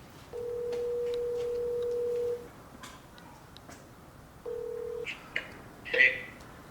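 A telephone gives a long steady tone, a shorter tone follows, and then comes a brief higher chirp as a call connects, with faint sounds between the tones.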